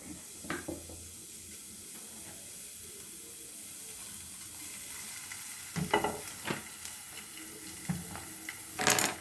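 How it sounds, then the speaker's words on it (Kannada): Small onions frying in oil in a pan: a steady low hiss and sizzle runs throughout, with a few louder bursts of stirring and crackle in the latter part. "ಆ ಸಣ್ಣ ಈರುಳ್ಳಿನ ಚೆನ್ನಾಗಿ ಫ್ರೈ ಮಾಡೋಣ"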